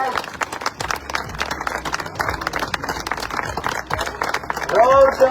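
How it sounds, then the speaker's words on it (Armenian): Warm, stormy applause from a political party's team gathered in a courtyard, steady dense clapping that swells toward the end, with crowd voices and talking mixed in throughout. "Քաղաքացիական պայմանագիր կուսակցության թիմը ջերմ և բուռն ծափերով ողջունում է ձեզ"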